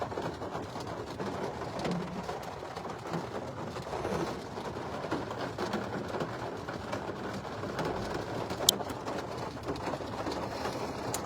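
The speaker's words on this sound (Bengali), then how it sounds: "তোমাদেরকে একটু দেখাই কি পরিমাণে বৃষ্টি হচ্ছে।" Heavy rain pours outside in a steady, dense hiss with occasional splashes and a brief sharp crack, heard from indoors at moderate distance.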